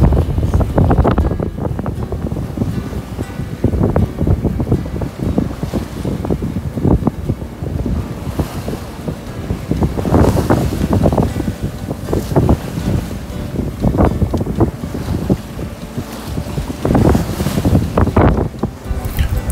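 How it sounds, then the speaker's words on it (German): Strong gusts of wind buffet a microphone over rushing water and a sailboat's creaks at sea, loud and continuous with no talking. "Der Wind frischt nun deutlich auf und wir müssen reffen."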